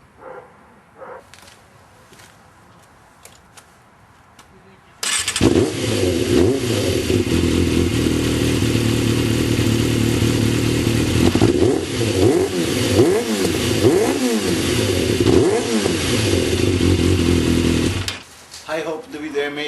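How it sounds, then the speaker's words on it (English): A Yamaha YZF 600 motorcycle engine, freshly fitted with a new filter, starts up and runs loud and steady at close range with some revving and mechanical clatter for about thirteen seconds, then cuts off abruptly. "now I'll let you hear the regular sound of the motorcycle"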